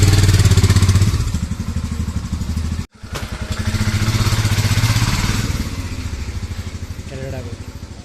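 Motorcycle engine running close by as a bike heads off on a test ride, a loud steady throbbing drone with a brief cut near the middle, while people talk over it.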